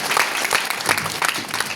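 An audience clapping warmly at a public gathering, a dense, steady round of applause from many hands close by, running the whole moment without a break.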